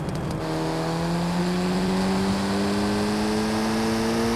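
A Ford Transit van driving in Forza Horizon 5, its engine droning steadily and rising slowly in pitch as it accelerates, loud and close throughout with no talk.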